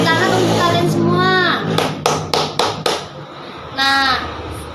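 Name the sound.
classroom children clapping hands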